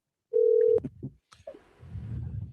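A telephone handset sounds a single steady tone followed by short clicks and beeps as a number is dialed to call back, then a low rumble of background noise.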